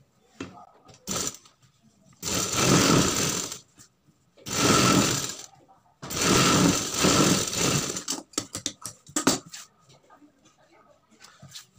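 Sewing machine stitching the hem of a sleeve, three bursts of close, rapid whirring separated by short pauses, followed by scattered clicks and handling noises.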